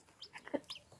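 A free-range hen clucks in a few short, close bursts beside newly hatched chicks, with quiet gaps between the calls.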